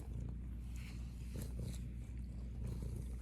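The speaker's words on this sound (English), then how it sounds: "He's purring though. He likes it." A cat purrs close up in a low, steady rumble, continuous throughout with slight rhythmic pulsing.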